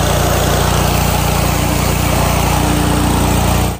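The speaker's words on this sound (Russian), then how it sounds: "Лучший способ помыть Феррари — это, конечно, мойка высокого давления." A pressure washer spraying down a $400k Ferrari, a loud, steady engine-like drone with a constant hiss that runs unbroken and close before cutting off at the end, no voices.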